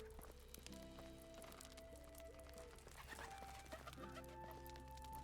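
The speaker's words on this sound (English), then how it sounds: "I swear, I hear chicken sounds." Chickens cluck in a medieval village setting in the Medieval Dynasty video game, a soft scattering of short clucks over a bed of layered ambient game sound and faint tonal music, with no talk.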